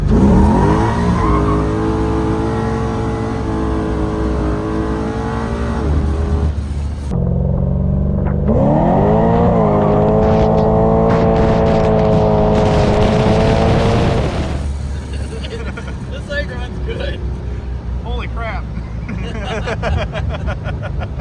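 A 1965 Corvette with an LS3 engine revs loudly up close, its note climbing, settling, then surging again as it accelerates, before dropping to a steadier rumble.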